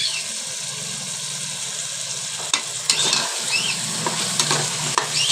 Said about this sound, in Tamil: எண்ணெயிலே ஒரு 5 நிமிஷம் வதங்கட்டும்.